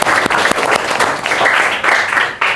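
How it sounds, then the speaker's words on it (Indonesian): Classroom applause from students during an Indonesian language lesson, a dense burst of many hands clapping that runs steadily throughout, loud and close, briefly dipping near the end before picking up again. "tepuk tangan untuk Nafa."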